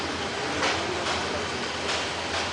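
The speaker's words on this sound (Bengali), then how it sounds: "একটা ট্রেন এটা আইসে" A train pulling in, a loud, close, continuous rumble and roar with periodic swells like passing wheel sets, no talking over it.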